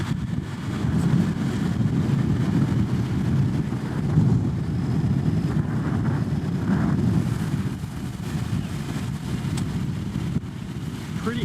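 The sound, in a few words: strong wind blowing on a Texas overland trail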